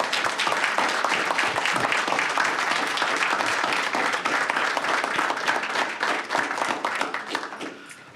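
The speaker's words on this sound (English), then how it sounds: "And a round of applause for everybody one more time." A full round of applause from the crowd at a Veterans Day event marking the Marine Corps birthday: thick, steady clapping that holds strong before tapering off at the very end.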